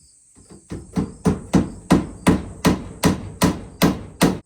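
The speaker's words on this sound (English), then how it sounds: "I don't have any small staples, so I'm doing this cheap Amish style by small roofing nails" Small roofing nails are hammered into an old wooden chicken coop in a steady run of about a dozen sharp, close blows, evenly spaced and rising in force after a few light taps, while insects chirp faintly behind.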